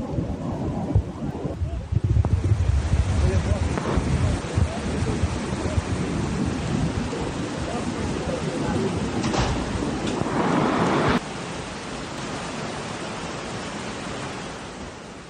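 A flooded river after Hurricane Helene in Tennessee, with overflowing dam water roaring in a loud, constant rumbling rush that fills the whole clip, with no talking heard over it.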